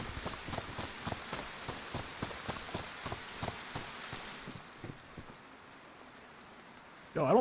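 Red rain falls in the DayZ video game as a steady patter, with a regular thud of running footsteps over it that stops partway through, followed by a sudden louder burst at the end.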